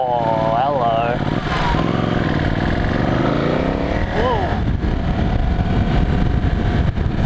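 A Ducati 1199 Panigale S engine in race mode revs and winds down with shifting pitch as the bike brakes hard, loud and close, with wind noise and some talk.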